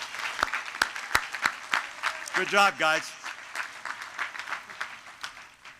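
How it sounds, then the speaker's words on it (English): A crowd at a university commencement ceremony applauds steadily at moderate volume, with a few sharp nearby claps standing out and a brief spoken remark partway through. "Let's give them a round of applause."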